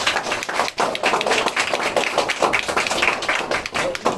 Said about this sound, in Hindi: जोरदार तालियों के साथ तुम लोग